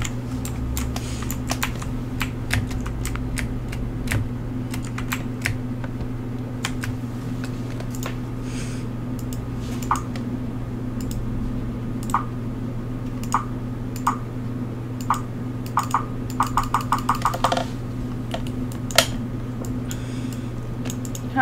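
Computer keyboard keys tapped while playing the game R.I.C.A.: Follow The Kitty, scattered single clicks that build into a quick burst of rapid typing near the end, over a steady low hum.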